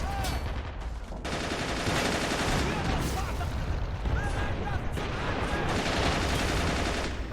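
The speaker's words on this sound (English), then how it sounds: "BT-7 firing." A BT-7 tank firing in the World War II game Men of War: Assault Squad 2, set at Stalingrad, heard inside a dense, continuous battle din of gunfire and blasts, with a voice talking over it.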